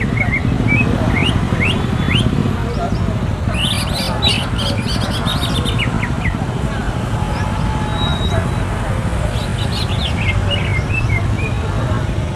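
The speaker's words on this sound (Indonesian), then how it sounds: "burung cucak hijau." Green leafbirds (cucak hijau) chirp and whistle in short bursts at a busy bird market, set against steady traffic and crowd noise.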